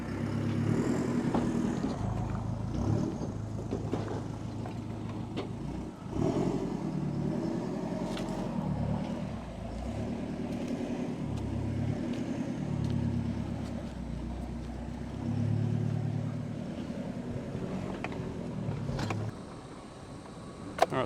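A Nissan Navara NP300 pickup drives off on an off-road course, its engine running steadily and close for about twenty seconds with a few rises in revs and mechanical knocks, then cutting out near the end.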